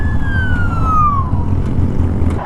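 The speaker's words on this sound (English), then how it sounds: "Fire truck." A fire truck siren wails as it passes on a street, its tone sliding steadily downward as it goes by, loud over the rumble of road traffic.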